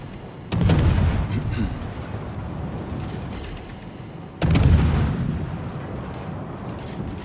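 A Gearing destroyer fires armour-piercing shells in a naval video game: two loud, heavy booms land about four seconds apart, each with a rumbling tail that fades slowly, over a constant background of battle noise.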